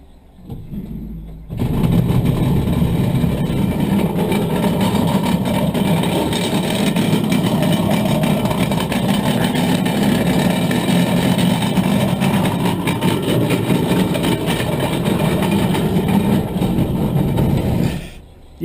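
A Holden HZ One Tonner with 200,000 miles, hard to start, settles into a rough idle after a quiet opening, its low engine rumble steady and loud for the rest of the clip, with no talking.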